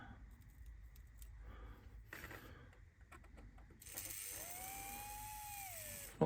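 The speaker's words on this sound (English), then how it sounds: "putting a little bit of power through the motor to check that it's going to run." A small motor in a Triang 'Princess Elizabeth' model locomotive runs with a steady, faint whirring hum, joined partway through by a rising high-pitched whine that holds until a sharp click at the end.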